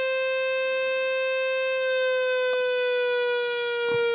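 A synthesizer holds a single steady bright note with rich harmonics, then lets it ring on with a long release, sustained and clean with faint clicks from the controls and no talking.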